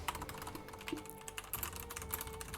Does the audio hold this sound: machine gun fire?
no